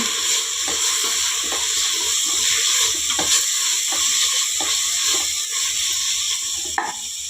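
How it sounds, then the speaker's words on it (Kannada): Fenugreek leaves frying in a pan and stirred with a spatula, a steady hiss and sizzle with repeated scraping strokes at an even rhythm, close and clear. "ಈಗ ಮೆಂತ್ಯ ಸೊಪ್ಪು ಹಾಕ್ಕೊಂಬಿಡೋಣ ಅರ್ಧ ಕಟ್ಟು ನಾನು ತೊಳೆದು ಈ ರೀತಿಯಾಗಿ ಸೊಪ್ಪು ಇಟ್ಟಿದ್ದೀನಿ ಚೆನ್ನಾಗಿ ಮಿಕ್ಸ್ ಮಾಡ್ಕೊಂಬಿಡೋಣ"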